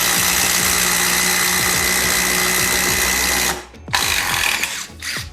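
A Kyocera cordless impact driver drives a screw with a sustained, loud, close rattle of hammering impacts that cuts off, then two shorter bursts follow after a brief pause.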